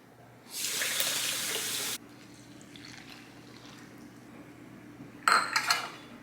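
Water runs from a tap into a container for overnight oats in a strong, even gush of about a second and a half, followed by quiet kitchen rustle and a few sharp clinks of dishes.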